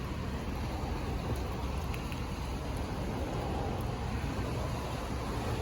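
Heavy rain driven by strong southwest winds over a big carp lake pit, a dense, steady hiss of downpour and gusting wind that stays loud and unbroken throughout, with no voices.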